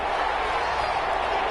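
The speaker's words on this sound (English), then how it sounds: "the crowd getting into it as we come up on a big third down" A football stadium crowd roars in a dense, continuous wash of cheering and applause ahead of a big third down, loud and sustained for the whole moment.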